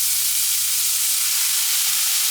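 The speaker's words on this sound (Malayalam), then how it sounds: "ഇനി നമ്മൾ ഇതിലേക്ക് അരിഞ്ഞു വെച്ചിരിക്കുന്ന ക്യാബേജ് ഇട്ട് കൊടുക്കുകയാണ്." Chopped cabbage frying in a hot pan, a loud, dense, unbroken sizzle close up, with a faint low hum beneath it.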